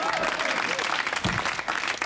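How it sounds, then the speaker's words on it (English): Studio audience at a comedy variety show claps loudly and continuously, a dense burst of applause with a voice briefly audible over it. "Big round of applause for Richard."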